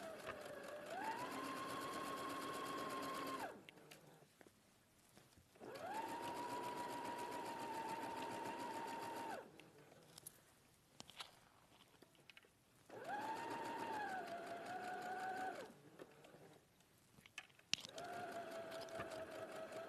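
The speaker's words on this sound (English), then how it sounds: "So this is just sewing like all the way." A sewing machine runs in long steady bursts stitching a silver-lined dress from cuff to hem, with several pauses between runs and speed changes, close and fairly quiet, no talking.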